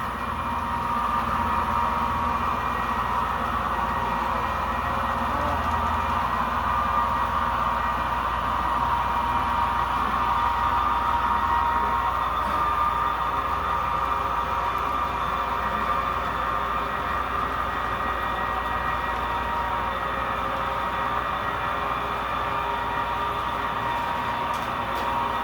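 A model train runs continuously with a steady mechanical hum and faint rattling along the track, unchanging in level throughout.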